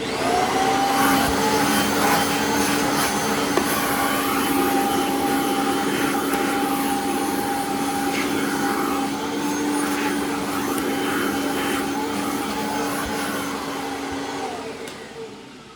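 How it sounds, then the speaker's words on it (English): A vacuum cleaner runs steadily while sucking debris out of a Bissell CleanView bin, a loud constant motor whine with a sustained hum, holding level for about fifteen seconds before easing off at the end. "You want to clean it up and vacuum it out."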